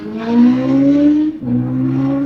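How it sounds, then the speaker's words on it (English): A loud motorcycle speeds past on a country road, its engine note rising and falling with a smooth, droning pitch shift as it passes close by. "There is a motorcycle out here and it is being loud."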